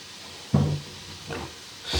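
Vegetables being stir-fried in a hot pan give short sizzling hisses with a few soft clunks as the pan is shaken and stirred, close and moderately loud, without talk.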